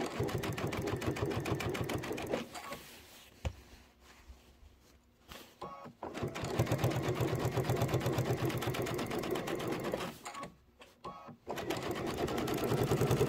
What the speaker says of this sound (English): we're gonna sew down this seam next